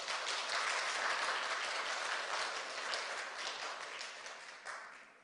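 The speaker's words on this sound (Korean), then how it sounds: "여러분 지금 저한테 박수 좀 보내주셔야 돼요" Congregation in a church at a Wednesday worship service breaks into applause, a soft, even wash of many hands clapping that slowly fades toward the end.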